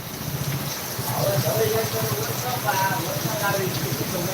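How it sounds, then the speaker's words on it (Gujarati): Heavy monsoon downpour in Jam Khambhalia, a steady dense hiss of rain throughout, with faint voices at moments underneath. "અમારે તો જોરદાર વરસાદ પડી રહ્યો છે જામ ગંબાડિયા"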